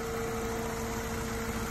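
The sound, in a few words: car engine idling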